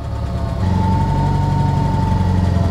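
A 1969 Nissan Gloria's engine as the clutch is let out in first gear, a low steady rumble that bogs slightly and pulses under load, heard from inside the car.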